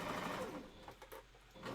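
A sewing machine runs a normal stitch through fabric for a wolf costume tail, a close, fast mechanical whirr that slows and stops in short bursts, with a voice speaking quietly underneath.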